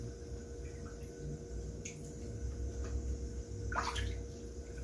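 Salmon rinsed under running water at a kitchen sink, a steady hiss of flowing water with a few faint drips and splashes, no talking.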